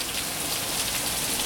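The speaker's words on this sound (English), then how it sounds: "gutters are leaking because it's raining too hard for their gutters." Heavy rain pours down hard during a massive thunderstorm in Springfield, Illinois, overflowing leaking gutters; a dense, steady hiss of water runs loud and unbroken, with no voices.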